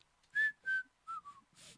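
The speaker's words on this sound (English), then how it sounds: "If ever you're whistling and you're trying to record it, always whistle off to the side." A person whistles a short tune alone, four clear notes falling in pitch and then a fifth softer one, close and fairly quiet, with no talking.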